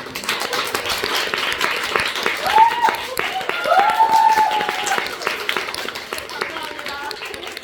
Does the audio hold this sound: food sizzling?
no